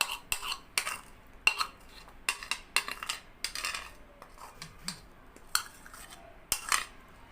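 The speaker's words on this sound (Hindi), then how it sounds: "तो ये सारा जो बैटर है हमारा दही वाला, ये हम इसमें ऐड कर देंगे।" A spoon clinking and scraping against a bowl as 1.5 kg of chicken wings are tossed in a yogurt-and-spice batter, with a series of irregular, close metallic taps and soft wet stirring in a quiet kitchen.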